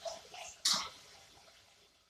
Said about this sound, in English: I like to rinse my can and pour the sauce